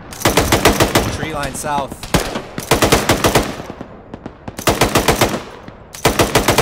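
Automatic gunfire in the military game ArmA 3 comes in repeated loud bursts of rapid shots with short pauses between, while a player calls out over the shooting.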